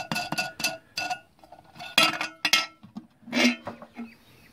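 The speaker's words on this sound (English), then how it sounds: "So I'm going to pop that air cleaner off." Metal parts clink and tap in a series of sharp, close knocks as the air cleaner is removed from the carburetor of a Honda GXL engine under restoration. Some of the clinks ring briefly, with short pauses between them.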